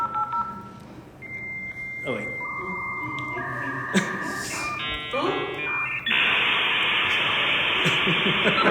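A computer dial-up modem calls another computer in California: a touch-tone dialing sequence, then a string of beeping handshake tones and a loud hissing data screech at the end, with a voice speaking briefly over it.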